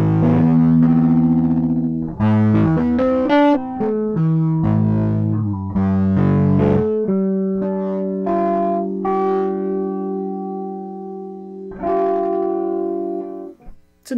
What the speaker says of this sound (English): It's a nice distortion and chorus.